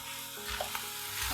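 Onions seasoned with salt sizzle steadily in a frying pan while being stirred, a soft, close crackle with faint scraping, brief and without talk.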